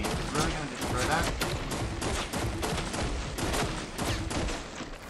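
Rapid bursts of gunfire from a Fortnite: Battle Royale match crack out in a dense, steady volley lasting several seconds, loud and close, with a player talking over the shooting.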